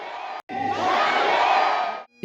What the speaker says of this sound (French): Une clameur s'élève de la foule en liesse.